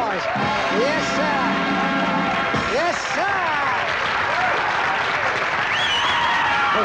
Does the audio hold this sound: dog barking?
no